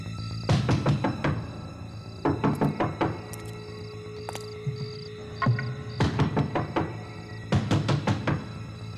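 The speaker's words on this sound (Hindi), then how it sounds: "तुम यहाँ खड़े रहकर लगातार दरवाजा नॉक करते रहो" A door is knocked on repeatedly in bursts of rapid, loud thumping raps, separated by short pauses, with a faint steady beeping tone running in the background.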